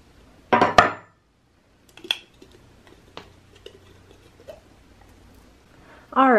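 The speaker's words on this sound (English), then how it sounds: "I'm gonna pop this out and I'm just gonna come in with a knife on the side." A knife works cured silicone out of a mold, giving a sharp scrape-and-pop followed by scattered light clicks and scratches, close by, with a voice starting at the end.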